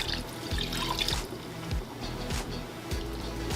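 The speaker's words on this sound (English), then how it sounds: "top it all off with 2 cups of apple cider vinegar" Apple cider vinegar, two cups, is poured into a cooking pot, giving a steady close liquid gurgle and splash with a few small knocks.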